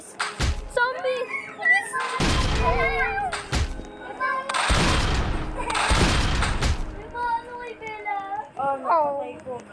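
Gunfire erupts in bursts while shooting zombies in the video game Dead Rails, heavy booming volleys broken by short gaps, with excited voices talking over and between the shots.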